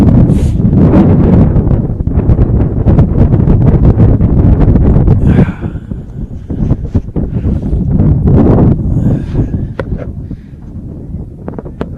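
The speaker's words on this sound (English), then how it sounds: "The wind kicks up even more" Strong wind gusts buffet the microphone at a high school baseball field, a loud, roaring rumble that surges and eases in waves, with no voices over it.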